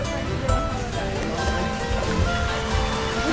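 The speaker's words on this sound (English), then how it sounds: "Look at the waterfall, water feature over here" Water from a waterfall feature at a hotel swimming pool on Savai'i, a steady dense splashing rush that fills the whole clip, close and continuous.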